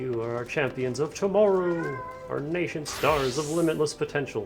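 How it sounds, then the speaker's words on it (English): A cat meows loudly and drawn-out partway through, close by, while a person keeps talking over it with a game's narration. "That was a cat. Don't mind the cat."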